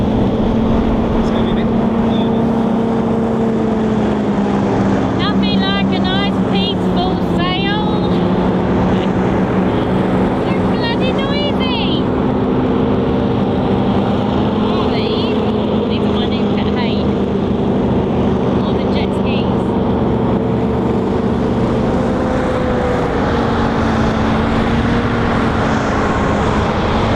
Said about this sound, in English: That terrible noise you can hear is hovercrafts coming down.